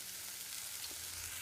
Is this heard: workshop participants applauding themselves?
no